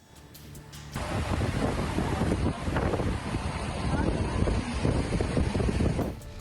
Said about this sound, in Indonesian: Hujan deras disertai angin kencang melanda Kabupaten Maros, Sulawesi Selatan.